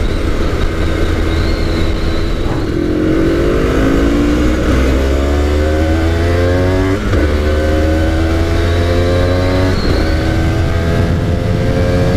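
Aprilia RS250 two-stroke 250cc motorcycle accelerating hard, loud and close, its engine note climbing in repeated rising sweeps through the gears with brief dips at each shift, no voices over it.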